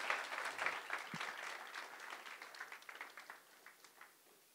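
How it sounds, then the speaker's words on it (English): An audience applauds after a talk, with dense close clapping that thins into scattered claps and fades out. "Let's hear a big Flipkart round of applause for Padmasree."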